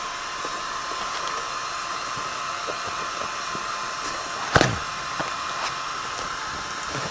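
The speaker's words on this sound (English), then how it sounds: "This is my new Air gun." A new air gun blowing gives a continuous, even, hissing rush of air that holds steady throughout, with one brief louder burst partway through.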